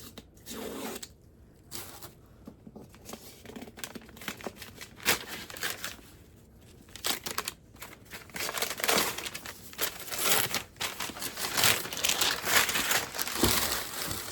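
A book wrapped in bubble wrap being unwrapped, close, with crinkling, rustling and tearing plastic, quiet at first and then building into denser, steadier crumpling.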